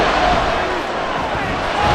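Broadband crowd roar fills a football stadium in the Madden NFL 24 video game, a dense, loud, steady wash of fans on their feet on third down, with no distinct voices.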